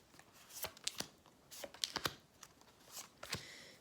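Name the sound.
tarot cards being fetched and shuffled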